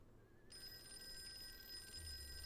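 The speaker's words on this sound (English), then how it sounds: "A phone call." A steady electronic telephone ring starts after a brief pause and holds as a continuous tone over a low background hum.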